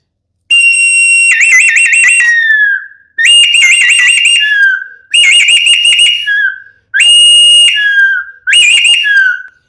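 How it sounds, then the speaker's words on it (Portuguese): A strong whistle is blown loudly up close in five long blasts with short gaps, each trilling and warbling, meant to be loud enough to wake a whole house. "Eu vou dar um apito para você ver como ele é forte."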